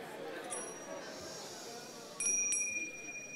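A small bell rings during a group exercise at a conference: bright, clear chimes strike a few times near the end over a low murmur of room noise.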